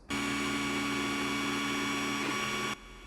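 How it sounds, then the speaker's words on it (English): An Ender-3 3D printer with its old stock circuit board runs loudly, its stepper motors giving a steady tonal whine and hum that stops abruptly near the end. "our 3D printer goes from sounding like this"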